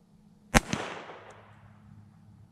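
A single sharp .22 LR gunshot fired into ballistics gel, a loud crack followed by a quick echo and a fading tail in otherwise quiet surroundings.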